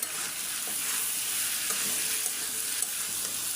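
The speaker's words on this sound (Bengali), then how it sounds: "শুধু আমি তেলের মধ্যে একটু ভালো করে কষায় নিলাম" Shrimp and papaya curry sautés in oil in a pan, a close, steady crackling sizzle with stirring throughout.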